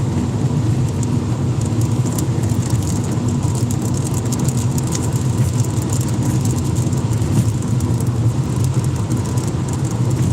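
Cars and trucks rush past on an Arizona highway between Phoenix and Las Vegas, heard as a loud, constant roar of tire and engine noise with no clear gaps between vehicles.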